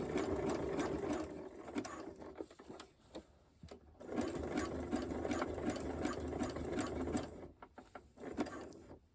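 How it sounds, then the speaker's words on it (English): A sewing machine runs zigzag stitches along an elastic edge in quick mechanical bursts, whirring close up with brief pauses between runs. "And then just do a little zigzag stitch along the edge of this."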